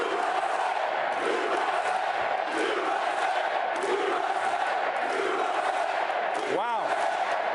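A big political rally crowd in Pittsburgh, Pennsylvania, roars with continuous cheering and shouting, a dense wash of many voices filling the whole stretch, with a brief whooping sound near the end.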